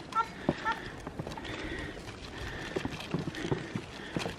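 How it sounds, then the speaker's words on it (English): Light hooves of a small herd of pack goats carrying gear clatter past on a trail in an irregular patter at moderate distance, with a few soft voices in the background. "He had a small herd of goats carrying all his gear."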